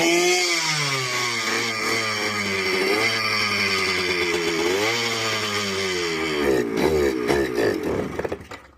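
A 1975 Yamaha DT175 two-stroke motorcycle engine with a stuck carburetor needle runs close by with a loud, buzzy idle, its pitch wavering and dipping repeatedly as it struggles, then sputtering unevenly near the end.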